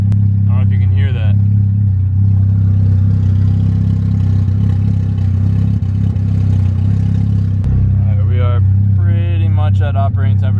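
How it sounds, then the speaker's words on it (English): A Volkswagen MK6 Golf R engine idles while warming up with a P0016 fault, a loud, steady low rumble with slight unevenness throughout, and brief voices come in near the start and end. "So as it's warming up, it's starting to sound a little bit worse. It's starting to like stutter a little bit more."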